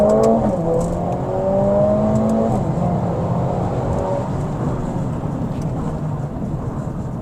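Mercedes A45S AMG with a Stage 1 tune and eight-speed gearbox accelerating hard, a loud continuous engine roar with rising revs and quick upshifts, close and steady throughout with no talking.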